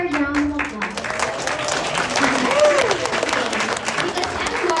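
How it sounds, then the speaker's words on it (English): An audience gives a round of applause at a presentation, steady clapping rising and falling, mixed with a voice talking over it. "can you give EmGuarde a round of applause?"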